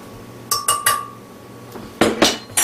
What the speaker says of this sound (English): what you're going to need for every cup that you make is to add 1 tablespoon of your starch to your blender.